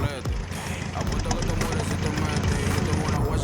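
Loud, close, rough rumbling of a SEAT Ibiza TDI diesel engine idling through an open straight-through exhaust, a dense low throb that fills the short stretch, with a voice briefly audible.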